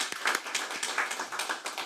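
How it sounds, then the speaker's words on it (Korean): A small forum audience at a Korean software and AI innovation meeting gives brief, light applause, a soft patter of scattered claps with no voices over it. "힘을 좀 실어드린다는 의미에서 박수를 다시 한번 보내드리겠습니다."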